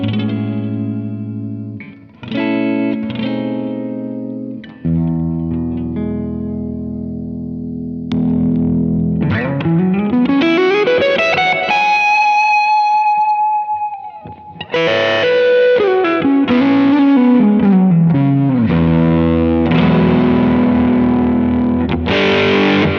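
An electric guitar plays through a Blackstar AMPED 1 amp with a distorted tone, layered with chorus-like effects. It alternates chugging chords and held notes with sliding bends. The sound is loud and close, and no one speaks.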